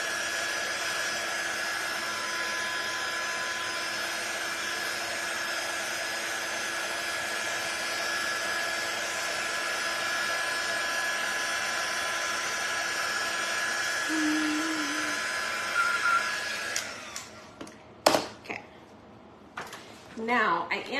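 A hair dryer blows on a freshly painted Nativity set craft piece with a steady, close whine and hum, then shuts off near the end, followed by a few handling knocks.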